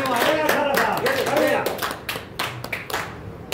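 Onlookers at an outdoor yoga demonstration clap in short, uneven bursts while people keep talking over and between the claps.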